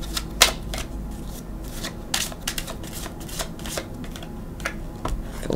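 A deck of tarot cards is shuffled close up, giving a steady run of crisp riffling snaps and soft flutters with a few louder slaps, with no talking.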